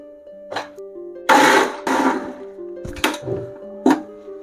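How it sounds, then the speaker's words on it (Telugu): A mixer grinder blitzes cooled sambar masala into a fine paste for Kerala sambar, running in short, loud broadband bursts separated by brief pauses. "ఇప్పుడు మనము మిక్సీ జార్లో వేసుకొని ఫైన్ పేస్ట్గా గ్రైండ్ చేసుకుంటాం దీన్ని."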